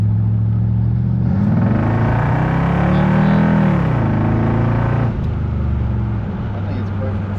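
The exhaust of a Chevrolet 5.7-liter 350 V8 rumbles loud and close at a steady idle, swells into a rev around the middle, then settles back to a deep, throbbing burble.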